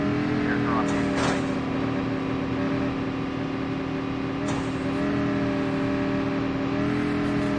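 A video-game motorcycle engine hums at a steady, sustained drone with a couple of brief revs, continuous and moderately loud under an ongoing voice talking over it.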